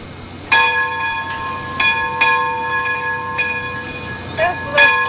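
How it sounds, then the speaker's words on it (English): A bell rung by small children, its clear ringing strikes repeating irregularly about half a dozen times at moderate distance over steady outdoor background noise. "That's the little kids over ringing that bell."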